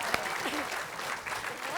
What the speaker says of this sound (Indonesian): Kita berikan tepuk tangan untuk bawang merah bawang putih